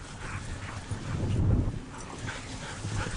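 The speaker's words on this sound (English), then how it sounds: "That's my Krause dog, and Goldie, and right behind Goldie is Jill" Sled dogs on a mushing trail, faint whimpers and yips rising out of a steady outdoor background, swelling briefly near the middle before settling back, heard at a moderate distance.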